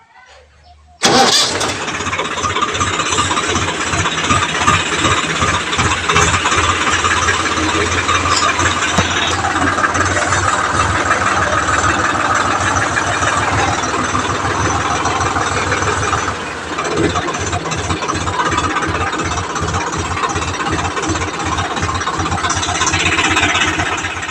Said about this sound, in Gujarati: હવે ટ્રેક્ટરમાં ચાલુ કર્યું